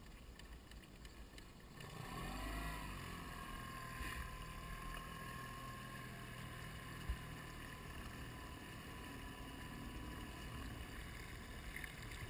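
A 1994 Alumaweld 18-foot Intruder aluminum boat moves slowly across the water, its engine a steady low drone with broadband water and wind noise that rises after the first two seconds and holds even, without voices.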